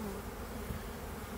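Honeybees buzzing around prepared hive colonies readied for winter in southern England, a steady, faint, continuous drone of many insects with no talking.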